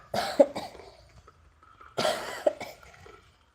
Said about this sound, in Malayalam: ചുമയുടെ അവസ്ഥ ഇതാണ്